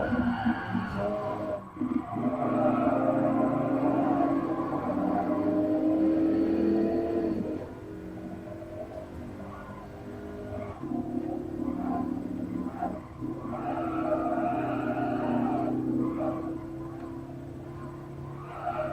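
A car engine runs steadily in GTA Online, a smooth, fairly quiet hum with mild rises and dips in pitch as it accelerates and settles, heard alone without talk for the full stretch.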